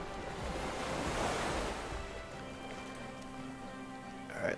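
Ocean waves wash and surge as a steady, fairly loud ambience with some wind noise, played as a sound effect in a tabletop role-playing game, easing slightly toward the end.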